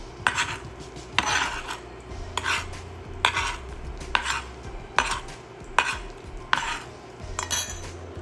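Lemon pepper, garlic powder and salt being mixed in a bowl for a lobster truffle mac and cheese, with a utensil clinking against the dish in a steady, repeated rhythm of sharp, close taps and a scraping stir between them.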